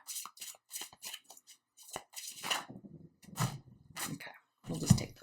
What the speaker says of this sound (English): Two more shuffles off the top of the deck.